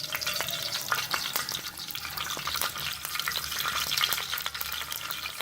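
Cumin seeds and curry leaves sizzle in hot oil for a Pakistani kardhi pakora curry, a steady bright crackle with sharp pops scattered throughout, close and continuous with no talking.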